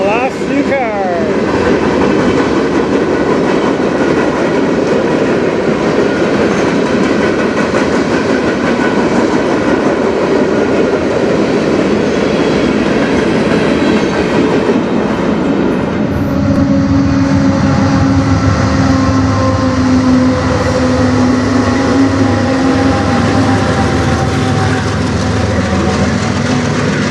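CN freight train cars roll past close by in a steady, loud rumble with rhythmic clickety-clack from the wheels, and a sustained tonal whine joins in over the second half.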